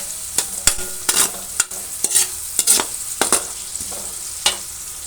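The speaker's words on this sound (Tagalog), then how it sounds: "Papula-pulahin natin ang bawang." Garlic sautéing in a pan until it turns golden, a steady low sizzle broken by repeated scraping and stirring strokes of a utensil against the pan, close and fairly loud, with no talking.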